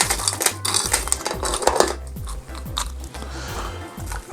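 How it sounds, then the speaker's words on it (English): Ice cubes dropped into a ceramic tiki head mug for a keto Scorpion Bowl, a run of close, crunchy clinks and knocks in irregular bursts over a low background. "Put some ice into the Kakamoa head."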